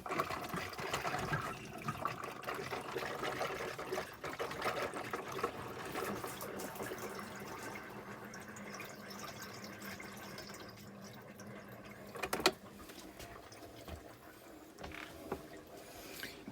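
Water gurgles and sputters out of RV plumbing as compressed air blows the lines out during winterizing, a faint, continuous bubbling and rattling with a sharper knock partway through.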